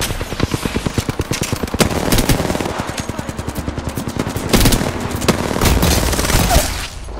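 Rapid automatic gunfire in the battle royale shooter Apex Legends. A loud, steady stream of fast shots rattles on for several seconds in repeated bursts with only brief gaps.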